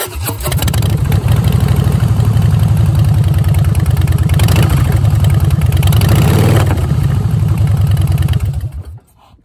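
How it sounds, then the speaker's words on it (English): A 2014 Harley-Davidson FLS Softail Slim with a Vance and Hines exhaust rumbles loudly at a steady idle with a deep, throaty pulse, swells briefly twice, then cuts off near the end. "this bike sounds awesome because it has a Vance and Hines exhaust"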